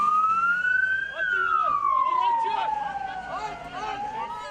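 A loud ambulance siren wails nearby at a mine explosion, its tone rising and then sliding slowly down in one long continuous sweep.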